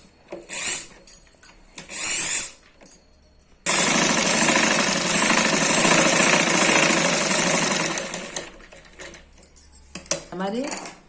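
A sewing machine stitches a chudithar top, running steadily and close for about four seconds after a few short bursts of handling and rubbing of fabric, then winding down into scattered clicks.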